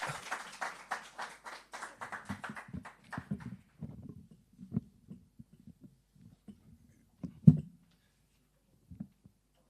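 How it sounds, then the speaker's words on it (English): Sparse, thinning clapping from a small audience at a poetry and song competition awards ceremony, starting as a brief scattered burst then dwindling to a few isolated claps and taps. "Please give him a warm round of applause as he makes his way to the lectern."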